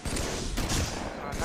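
Rapid bursts of gunfire from a Halo 3 multiplayer match ring out continuously, loud and dense, with players talking over the shooting.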